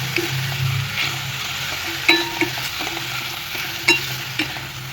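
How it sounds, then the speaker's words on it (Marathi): Fenugreek leaves stir-frying in a pan hiss in a steady low sizzle, with a handful of sharp spoon clinks against the pan scattered through the last three seconds. "मेथीला चांगली परतून घेऊया एक दोन मिनिट"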